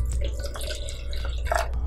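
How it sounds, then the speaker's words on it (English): Water pours into a drywall mud cup, a short close splashing and dribbling with uneven drips over a low background hum. "we're going to go ahead and add our water."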